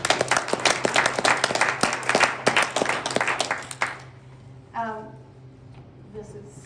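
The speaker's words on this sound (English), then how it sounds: "So that's who deserves the round of applause." Applause for food bank volunteers from an indoor audience at a corporate donation event, dense clapping for about four seconds that fades out, followed by a single voice speaking.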